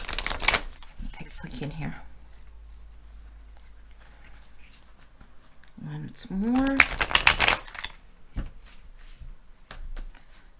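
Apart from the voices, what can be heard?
shuffling a stiff new tarot card deck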